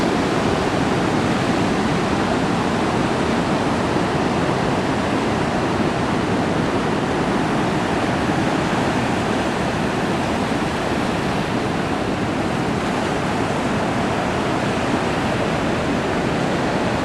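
Rushing ocean water churns and surges steadily as currents collide around a rock on the Oregon coast, a loud, dense roar of turbulent water with no voices.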